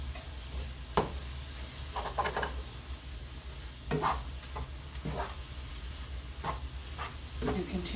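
Ground beef sizzling steadily in a pan for low-carb chili, with a spoon scraping and stirring through it in scattered bursts of clatter over the constant fry.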